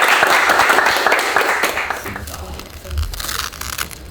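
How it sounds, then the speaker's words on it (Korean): Football team clapping hands together in unison at the end of a post-match huddle, a dense burst of applause that fades out over a few seconds, with voices mixed in. "박수 한번 치고 한번 끝내겠습니다"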